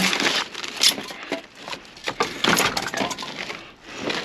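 Glass object shattering and clinking as it is lifted from a dumpster, a burst of breaking glass near the start followed by scattered clinks and rattling pieces, close and fairly loud.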